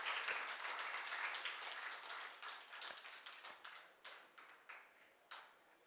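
Applause welcomes award winners at a badminton academy ceremony, fairly faint and distant, thinning out into scattered individual claps toward the end.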